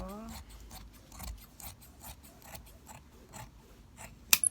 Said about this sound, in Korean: 자, 지금 잘라줍니다.